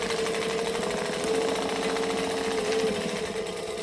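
A sewing machine runs steadily while back stitching on a sewing project, its needle mechanism chattering in a fast, even rhythm that continues through the whole stretch with no pauses.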